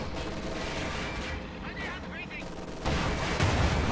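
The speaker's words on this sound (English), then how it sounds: "155mm artillery barrage just got called in on those grenadiers" A 155mm artillery barrage in a WWII strategy game, rumbling booms and crackling gunfire that swell louder toward the end, heavy and continuous under a commentator's voice.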